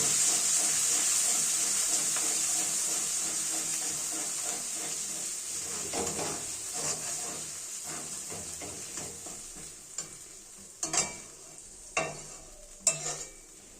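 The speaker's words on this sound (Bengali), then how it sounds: "মশলার পেস্টটা খুব সুন্দরভাবে কষতে থাকবো" Spice paste sautéing in a pan for a potato and green pea curry, a steady broad sizzle and hiss for most of the stretch, thinning out toward the end where a few sharp stirring scrapes and clatters stand out.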